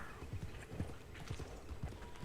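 Horse hooves in the Red Dead Redemption 2 video game, a few soft, close clip-clop steps in an uneven rhythm, quiet and alone, with no clear whinny.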